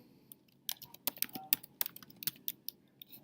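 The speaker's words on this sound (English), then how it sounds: "In C1, I'm going to type the word addition." Computer keyboard keys typed into spreadsheet cells, a quick irregular burst of close, crisp clicks lasting a few seconds with no talking.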